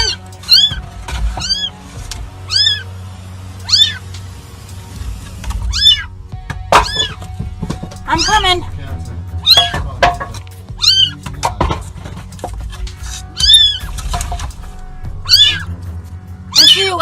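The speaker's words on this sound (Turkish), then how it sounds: "Kedilerin çığlıkları kadını gerçekten üzmüş olmalıydı." Trapped cats yowl and scream again and again. The loud, close cries rise and fall in uneven bursts over a low background hum.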